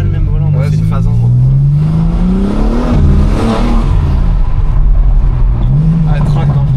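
A 1000-horsepower BMW's engine intake revs with a rising, roaring pitch that swells and dips over several seconds, loud and close, heard from inside the car with people talking over it.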